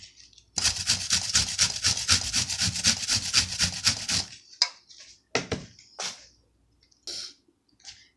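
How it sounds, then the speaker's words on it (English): An onion is grated by hand with fast, rhythmic rasping strokes for about four seconds, followed by a few scattered scrapes and light knocks, all close and moderately quiet. "Grating the onion is going to be the hardest part, so I'm going to grate half in here."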